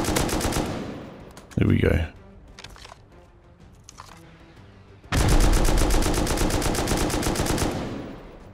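Rapid automatic gunfire from Rust shreds a turret in two sustained bursts, the second long and loud, separated by a sharp impact and a quieter stretch of scattered clicks and a brief spoken remark.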